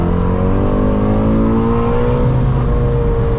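A Ford Mustang GT350 V8 accelerating hard from inside the car in the low gears: a loud, steady engine roar climbs smoothly in pitch throughout, with no talking.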